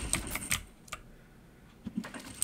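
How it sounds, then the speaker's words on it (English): Sharp clicking ticks from blocked hits in the Halls of Torment video game come in short clustered bursts, loud and close, with a quieter gap between groups and no speech. "You hear all that clicking sound when they hit me? That's my block doing its job."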